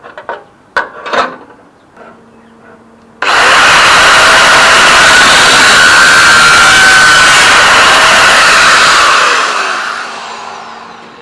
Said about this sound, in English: I'll just start running the grinder around and tack as I'm grinding away